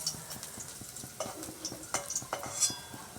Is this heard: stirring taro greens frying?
yes